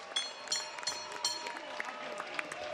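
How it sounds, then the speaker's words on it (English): A boxing crowd applauds both fighters after a 10-round main event, scattered clapping and cheering at moderate distance with sharp individual claps popping out of a steady crowd murmur. "let's give both of our warriors a big round of applause"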